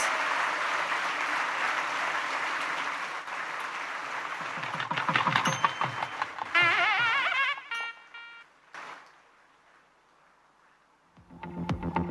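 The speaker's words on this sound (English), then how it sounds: "give a big round of applause as we inaugurate the launch of Peho Innovations" A crowd at a first-year engineering college inauguration in Ramapuram applauds the launch of a startup venture, dense steady clapping for several seconds before thinning out and fading into near quiet, with a few scattered claps returning at the end.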